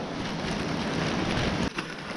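Rain falls steadily on the Mount LeConte hiking trail, a dense broadband hiss with wind-like rumble close to the microphone that breaks briefly near the end.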